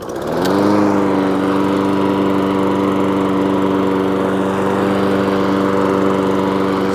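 A Weibang lawnmower fitted with a new automatic-choke engine fires on the first pull and settles into a loud, steady running hum close by, a short burst of the start giving way to an even drone with no talk.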